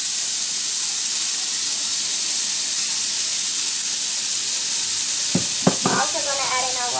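Green onions, carrots and peas stir-frying for shrimp fried rice give a steady, close sizzling hiss, with a few quick utensil clinks and scrapes near the end.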